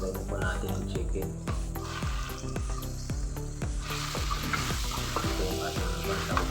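Chicken pieces sizzling in a hot pan while pancit is cooked, a steady fry with repeated clinks and stirring knocks close by.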